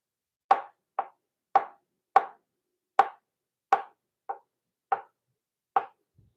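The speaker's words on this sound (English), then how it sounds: "you can slice them even thinner, which means you can get a really nice saute on them" A knife slices whole mushrooms for a New York strip steak dinner, landing nine crisp, close cuts in a steady, even rhythm with no voices.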